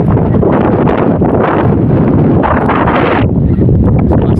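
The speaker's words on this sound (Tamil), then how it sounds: "சில்லு சில்லு சில்லு சில்லு சிலு சிலு சிலு சிலு காத்து" Chilly wind at Rameswaram buffets the microphone hard, a loud, continuous rushing roar with gusty surges that drop back slightly near the end.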